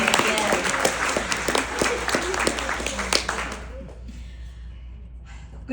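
Applause at a retirement speech, a moderate burst of claps mixed with voices and a low hum that cuts off after about four seconds, leaving faint room noise.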